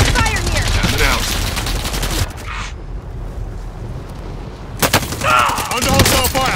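Battle gunfire in the shooter game Call of Duty: Warzone, loud rapid bursts of automatic fire up close, breaking off for a few seconds before another volley resumes, with faint voice chatter mixed in.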